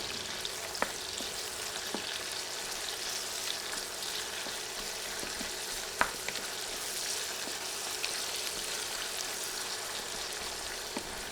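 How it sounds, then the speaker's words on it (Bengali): Three sliced onions fry in a pan, stirred now and then, making a quiet, continuous crackling sizzle broken by occasional sharp clicks of the utensil against the pan, with no talking. "এবার নেড়ে নেড়ে সব কিছু কিছুক্ষণ ভেজে নিব"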